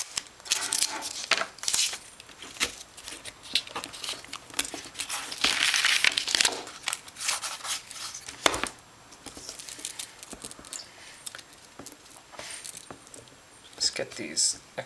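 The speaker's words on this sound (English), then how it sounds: "Right now I'll just tape it in place again" Tape being pulled and pressed down to hold an electrical part in place on an electronics build, with crinkly tearing and rustling bursts, close and fairly loud, with a few sharp clicks.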